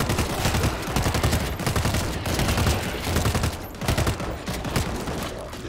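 Dense, continuous gunfire rattles without pause as zombies are shot down in the World War Z video game, loud and close with many overlapping shots.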